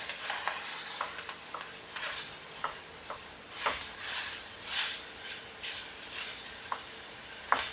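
Meat browning with onions in a frying pan, a steady soft sizzle broken by repeated scraping, stirring strokes and small clicks of a utensil breaking up the meat, close by.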